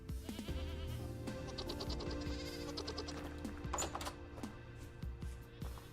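Goats bleating in the Vintage Story survival game, several wavering calls overlapping across the span over a steady background of game ambience and light clicks.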